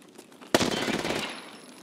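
A UZI PRO submachine gun fires in a video game as one sharp, loud automatic burst, starting abruptly and rattling on for about a second before tailing off.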